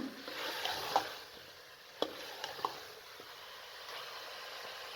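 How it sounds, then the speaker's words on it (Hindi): Potatoes, peas and mutton stirred in a pan for aloo matar gosht, with a soft steady sizzle of frying and a few scraping knocks of the spoon, close but fairly quiet. "ये देखिए आलू मटर और गोश्त को हमने अच्छी तरीके से भून लिया है"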